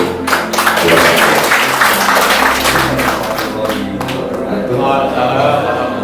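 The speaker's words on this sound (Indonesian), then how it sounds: "Tepuk tangan untuk" An audience at a gallery exhibition opening breaks into applause: a dense, sustained wash of many hands clapping, fairly close and loud, gradually thinning toward the end.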